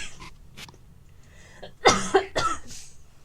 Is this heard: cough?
yes